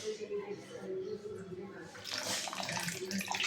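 Water splashes into a cooking pan, a soft pour that swells into a louder, steady rush partway through, with a low voice murmuring near the start.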